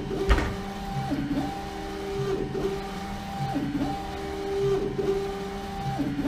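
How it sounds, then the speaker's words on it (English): Logojet UV printer with a rotary attachment printing a full wrap onto a 39oz bottle, a steady mechanical whir with repeating carriage passes and stepping tones rising and falling every second or so, close and continuous. "what's happening is the machine is laying down the primer coat, the white coat, and the color"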